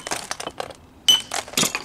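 Stone being rock-faced with a hammer and chisel: a series of sharp, bright clinks and chips in uneven bursts, close by, with a brief pause before a louder cluster of strikes.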